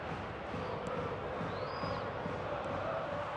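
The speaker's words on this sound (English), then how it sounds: "the matchday noise at this place is truly special" A large football stadium crowd in the PES 2024 video game fills the air with a distant, steady matchday murmur and roar, a dense wash of voices with no single sound standing out.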